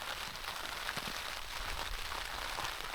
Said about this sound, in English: Rain's really coming in now.